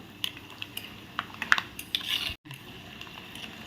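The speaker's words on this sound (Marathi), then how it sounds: "त्याच कढईमध्ये हे शेंगदाणे मी आता तळून घेते" Peanuts frying in a kadhai, irregular metallic clinks and scrapes of stirring over a faint sizzle, close and fairly loud with a brief dropout near the end.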